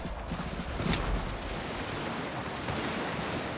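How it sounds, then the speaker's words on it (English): Artillery firing canister shot in a strategy battle, a distant, sustained rumble of overlapping volleys and crackling fire, fairly faint and spread evenly through the scene. "We're still firing canister."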